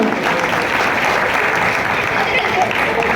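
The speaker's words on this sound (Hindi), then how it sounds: "जोरदार तालियां।" Loud, continuous applause from a large gathering at a Jain religious discourse honouring a monk's initiation, an even wash of clapping throughout.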